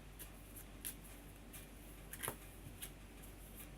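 Soft, faint riffling and flicking of tarot cards being shuffled, with light papery taps scattered through the quiet.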